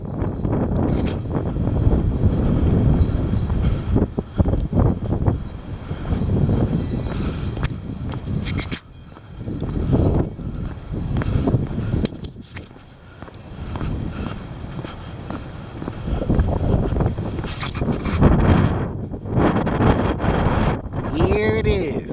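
Heavy wind gusts buffet the microphone in a loud, rumbling roar that swells and eases in waves, with a few brief lulls before surging again.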